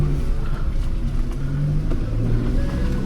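A 2025 Toyota Wigo G runs in sport mode and low gear on an off-road trail, its small engine droning and revving steadily with a close, continuous low hum, no talk over it.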